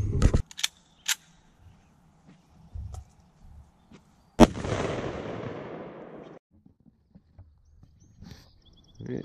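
A .50 AE pistol round is fired at a military helmet outdoors: a single sharp, loud crack, then a burst of ringing noise and rattle that fades over a couple of seconds, with scattered small knocks before and after.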